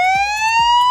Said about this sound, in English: You heard those alarms going off